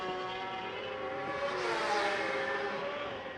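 A 1000cc superbike in the Macau Grand Prix motorcycle race screams past at full throttle, its engine note rising and sweeping by loud and close, with a faint Doppler shift and no talk over it.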